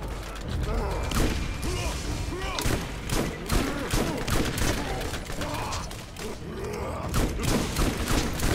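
Explosive shotgun fire in the video game Borderlands goes off in rapid, punchy blasts mixed with clattering mechanical clicks. The shots repeat in an uneven, busy rhythm at a fairly loud level, with some voices mixed in.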